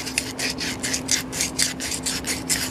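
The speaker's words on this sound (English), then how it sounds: "now I'm going to take just a little bit of sandpaper" Sandpaper worked by hand around the inner edges of a 3D printed serpent part, a close rhythmic rasp of about a dozen quick even strokes over a faint steady hum.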